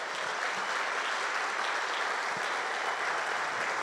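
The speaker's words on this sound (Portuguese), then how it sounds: "Você pode aplaudir o Senhor?" A church congregation applauds during a sermon, producing a dense, steady roar of clapping from many people that fills the room evenly and without pause from start to finish.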